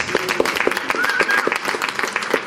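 An audience applauds a film director, a dense patter of many hands clapping steadily at close range and filling the short stretch, with a voice faintly audible beneath.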